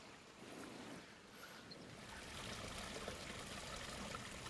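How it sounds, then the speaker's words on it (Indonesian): A small creek flows in a quiet outdoor spot, a steady wash of moving water with a soft, continuous babble that holds at an even level and grows slightly fuller toward the end, with no voices. "ini ada kali kecil, lumayan menghibur telinga suara airnya"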